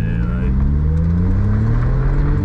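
A turbocharged kei car's small engine pulls hard under acceleration from inside the cabin, its droning note rising steadily in pitch over a couple of seconds.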